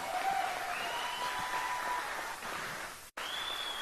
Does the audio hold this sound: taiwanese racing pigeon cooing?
no